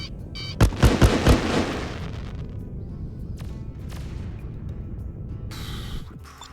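Several sharp missile explosions burst in quick succession in the space-combat game Freelancer, loud and punchy at first, then trailing into a low rumbling wash with scattered faint crackles and clicks.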